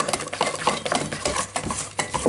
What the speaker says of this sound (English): Then I grab a whisk, just mix the two together like that